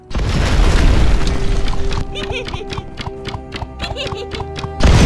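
A bomb explodes with a loud boom in the video game Heroes of Loot 2, rumbling through busy game sound effects, and a second blast hits at the very end.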